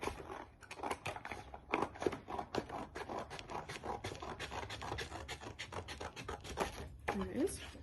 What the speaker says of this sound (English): And then I'm going to cut along that line.